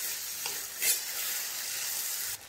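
Soaked chana dal is stirred in a pan over a low flame, a continuous bright hiss and scrape with a brief louder swell partway through, close and alone.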